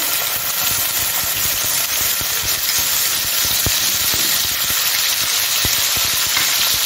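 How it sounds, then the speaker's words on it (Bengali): Onion paste frying in hot oil with whole cumin and bay leaf, a steady close sizzle and crackle with scattered pops and scraping stirs throughout, no talk. "এখন আমি পেঁয়াজ পেস্টটা দিয়ে দিচ্ছি।"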